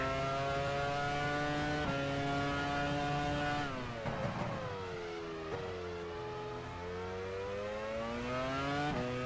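Formula 1 race cars in the F1 Challenge 99-02 racing game at the 2002 German Grand Prix scream loudly and continuously, their engine pitch rising through the gears, dropping on downshifts and climbing again as the laps go on.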